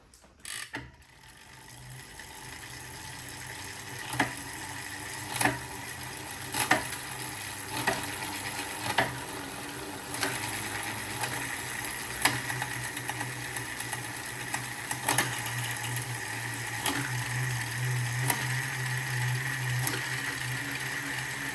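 A bicycle drivetrain ticks steadily as the chain is run up and down a cassette's gears, with periodic clicks of shifting over a continuous whirring freewheel, close and even throughout.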